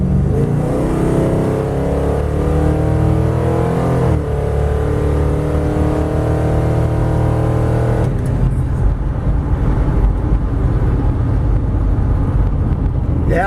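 A Plymouth with a 318 engine, torque converter and headers launches hard on rough chip seal, its engine roaring loud and close as it revs up, drops briefly, then pulls on with heavy tire and road rumble.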